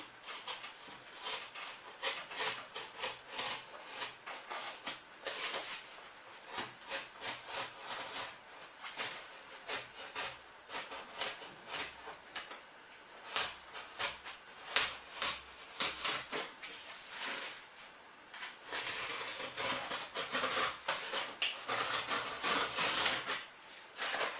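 Cardboard is cut for a DIY kitchen storage unit template, giving a run of close, irregular rasping and tearing strokes that rise and fall in bursts, with no talking.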